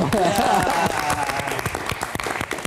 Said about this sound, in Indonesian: Tepuk tangan untuk Otong